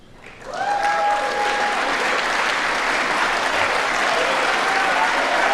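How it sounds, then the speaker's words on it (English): Lawmakers on both sides of the aisle stand and clap during a State of the Union address in the congressional chamber; after a quiet start the applause swells within a second into loud, sustained, even clapping that carries on without letup. "Notice how there's people on both sides of the aisle standing and clapping."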